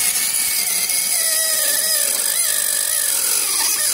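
A power tool drills into an electric motorcycle during modification work, giving a loud, steady, high-pitched whine with slight wavering in pitch, close up and uninterrupted, with no voices.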